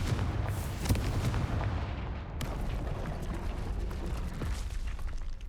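A Confringo blasting spell cast in Hogwarts Legacy, a deep booming impact with rumbling low-end and crackling debris, loud and close, followed by a lingering roar that fades slowly without voices.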